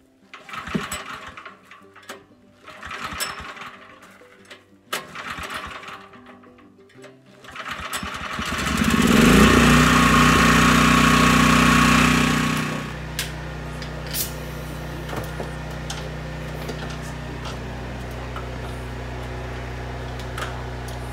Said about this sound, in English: My very most hated job on the farm is starting the generator.